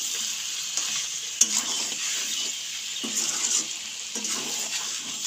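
Chicken gravy with chicken masala is sautéed in a pan, giving a continuous sizzle with repeated stirring scrapes and soft clinks that come and go close by.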